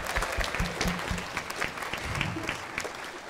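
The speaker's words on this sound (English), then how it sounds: "So can we have a round of applause for Amos Tellep?" Audience applause at a middle school holiday concert, a dense wash of clapping that holds steady and fairly close for the whole stretch, with no voices over it.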